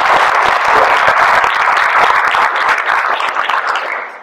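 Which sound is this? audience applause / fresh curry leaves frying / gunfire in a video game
audience applause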